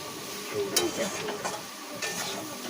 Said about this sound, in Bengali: এই সুন্দর করে ভেজে কষিয়ে নেবো